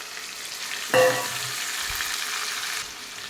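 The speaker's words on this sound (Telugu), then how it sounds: "అల్లం వెల్లుల్లి పేస్ట్ అనేది ఇప్పుడు కడిగి పెట్టుకున్న మటన్ ఇందులో యాడ్ చేసేద్దాము" Mutton goes into hot oil with browned ginger garlic paste for Andhra-style gongura mutton, setting off a sudden loud close sizzle burst that settles into a steady frying hiss, with no talking.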